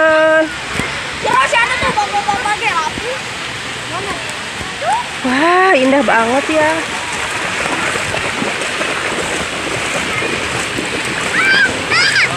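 Water splashes and churns steadily in a busy water park wave pool, with voices and children's shouts mixed through the noise and one person speaking nearby.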